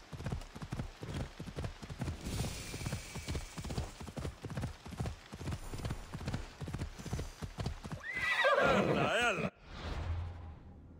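Horse hooves clip-clop at a steady trot in Assassin's Creed Odyssey, close and rhythmic for several seconds, ending with a brief whoosh and a snort or whinny.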